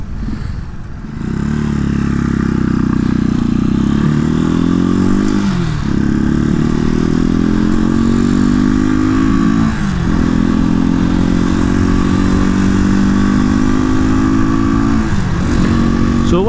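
A Janus Phoenix 250 motorcycle rides through town, its engine loud and close, pulling steadily with rising revs broken by three gear changes.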